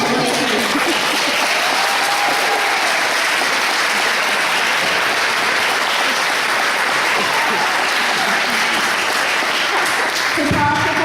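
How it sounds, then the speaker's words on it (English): Audience at an elementary school 4th-grade class play of A Midsummer Night's Dream clapping: dense, loud, sustained applause filling the room for about ten seconds, with a short voice at the end. "The crowd all clapped."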